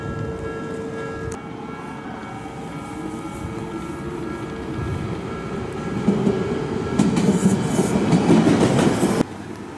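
A train rumbles past a nearby railway crossing with steady clattering over the rails, growing louder toward the end before the noise cuts off abruptly.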